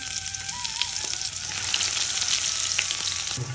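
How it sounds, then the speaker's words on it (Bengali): Chopped onion hitting hot oil in a pan already used for frying fish and tempered with cumin, producing a steady, close, bright sizzle that carries on throughout with no talking. "এরপরে দেব পেঁয়াজ কুচি।"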